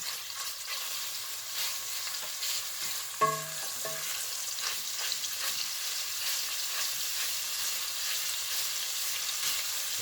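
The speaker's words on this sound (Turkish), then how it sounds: "Kıymamızı böyle güzel bir şekilde kavrulsun." Minced meat browns in melted butter in a pan for a tagliatelle dish, giving a steady, close crackling sizzle throughout, with a brief clink of a stirring utensil partway through.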